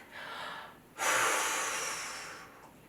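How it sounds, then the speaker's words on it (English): Heavy, exaggerated breathing during a bodyweight core ab workout: a soft inhale, then a louder, sustained forceful exhale that tapers off, close and alone. "Really exaggerate that breath."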